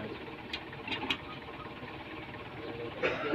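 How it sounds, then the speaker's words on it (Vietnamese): A well-kept engine idles quietly with a steady, soft mechanical hum, punctuated by a few faint clicks and taps, heard up close without talk. "Động cơ nổ nghe im quá ta."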